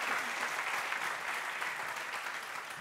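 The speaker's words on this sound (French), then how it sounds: "pour meilleur générique vos applaudissements, s'il vous plaît" An audience at the Voix des Jeunes Afrique 2017 All-Star Match grand final applauds with dense, even clapping that holds steady for a few seconds.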